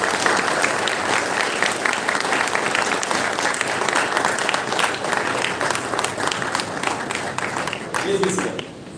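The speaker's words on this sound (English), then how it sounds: "Big round of applause." Sustained, dense clapping from a seated crowd at an industry summit fills the room, tapering off near the end as a voice begins over it.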